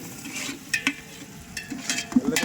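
Onion and curry leaves sizzle in hot oil for a Vellore-style egg semiya dish, with a steady frying hiss broken by several sharp stirring scrapes of a spoon.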